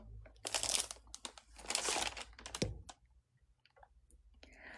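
A plastic bag is handled up close, giving bursts of sharp crinkling and rustling that come and go, then quiet handling noises with short pauses.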